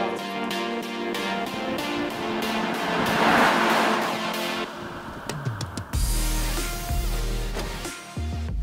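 A car coasting past with its engine switched off during a TÜV SÜD tire noise test: a broad rushing roll of tires on pavement that swells to a peak, fades, then gives way to a lower droning hum.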